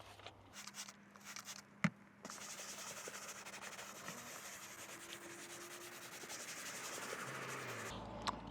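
A microfiber towel rubs and wipes over a surface before a leather coating is applied, giving a soft, close, continuous scuffing with a few sharp knocks near the start.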